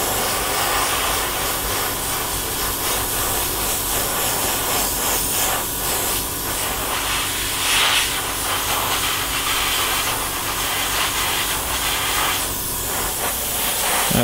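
An airbrush sprays base coat onto a Bell helmet muzzle in a steady hissing spray close to the microphone, broken by short pauses and bursts as the trigger is worked.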